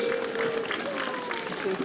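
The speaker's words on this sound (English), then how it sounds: "So round of applause." An audience at a dolphin show claps in a steady, fairly quiet patter through the brief moment, with crowd noise and a faint tonal whistle underneath.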